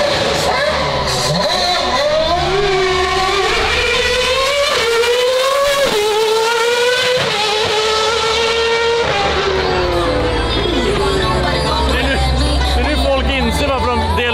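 A Red Bull Formula 1 car engine roars loudly through rising and falling revs over an event crowd's chatter. The roar then fades into a lower rumble while the crowd noise continues.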